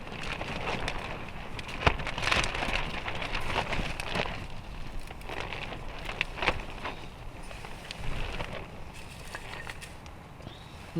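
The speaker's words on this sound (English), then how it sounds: "Oh, I know you guys can hear that wind blowing now." High wind gusts against a plains-style tarp shelter outdoors, producing continuous rushing noise with rattling and flapping bursts and occasional sharper snaps, loud and close.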